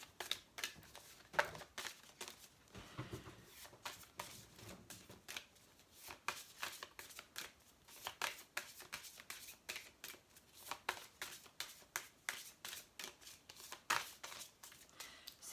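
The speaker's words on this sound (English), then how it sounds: "I just want to pull one of these angel script cards to see what the bigger message is from the angels." Angel script oracle cards being shuffled and drawn, a steady run of quick papery riffling bursts and soft slaps that repeat through the whole stretch at moderate, close volume with no talking.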